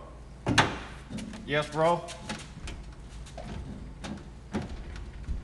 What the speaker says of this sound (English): You messed up the drawer. Okay. I pulled out too far.